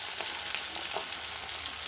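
Asafoetida (hing) hits hot oil in a pan with a soft, steady sizzle and crackle, quiet and close, with no talking.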